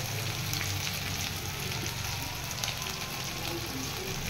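Spices with turmeric and green chillies frying in a pan in a flat kitchen, a steady close sizzle with faint stirring, no voices.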